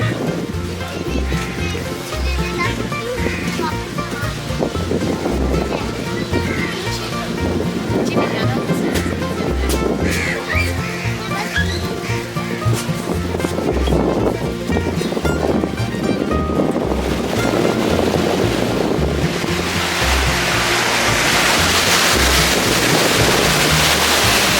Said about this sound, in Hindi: रिसोर्ट में यहाँ पे बैठ के आप समंदर की लहरों का आनंद ले सकते हो